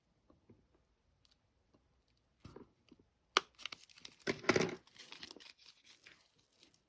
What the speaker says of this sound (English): I'm going to take a little pair of scissors and I'm going to snip it, trying to follow the curve.